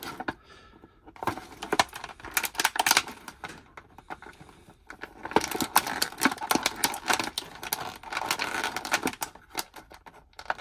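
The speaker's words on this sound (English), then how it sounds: "Let me see if I can find the other snips" Small hobby snips clip through plastic parts of a Masters of the Universe Masterverse Sorceress action figure, close up, in sharp bursts of clicks and snaps with short pauses between.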